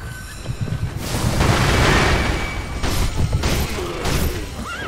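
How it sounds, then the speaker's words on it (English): A firecracker goes off in Sekiro, a burst of loud crackling and rumbling pops that swells and lingers for several seconds over a low, churning game backdrop. "gonna use the firecracker on this guy"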